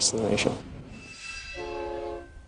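A freight train rumbles past with a sustained horn-like tone and squealing wheels, with a short burst of voice at the start.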